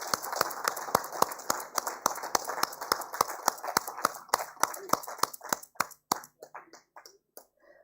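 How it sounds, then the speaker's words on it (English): Applause at a sanitation awards ceremony for a winning foundation: sharp, rhythmic claps from a small group, close and distinct, gradually thinning out and fading to scattered claps at the end. "Let's give them a big round of applause."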